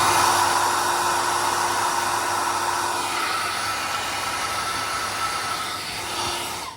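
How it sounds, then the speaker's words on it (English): A hair dryer blows with a steady whooshing roar and a faint motor whine, drying paint on a plastic model kit, running continuously up close before switching off at the end. "hit it with the hairdryer for a second."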